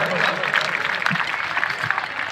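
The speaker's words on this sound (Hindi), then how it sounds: "इसलिए नई पीढ़ी के लिए एक बार जोरदार तालियां बजा दो।" Applause from a Republic Day gathering, a steady patter of many hands clapping at middling loudness, with voices heard over it.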